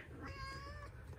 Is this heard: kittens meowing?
yes